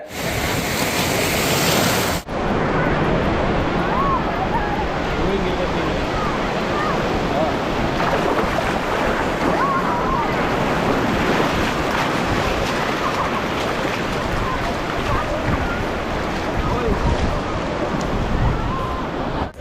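Sea waves and surf roar continuously at Malpe beach, a loud, dense wash of breaking water that fills the whole stretch without pause, with no clear speech over it.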